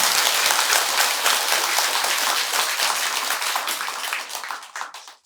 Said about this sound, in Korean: 박수 한 번 더 치세요